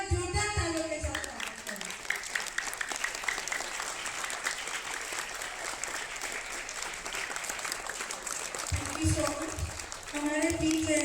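A standing indoor audience gives loud, sustained applause for guests at an international FIDE-rated chess tournament in the Andaman and Nicobar Islands, dense clapping that carries on for several seconds, with a voice speaking at the start and end.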